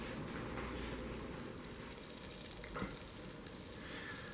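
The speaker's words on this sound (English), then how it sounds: "You'll hear it sizzling." Steady crackling sizzle of peppers roasting in an oven at 375 degrees, a dense continuous hiss with no voices, holding even for several seconds.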